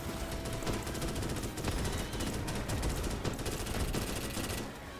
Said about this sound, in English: I love the way the gun slows down when you're running out of ammo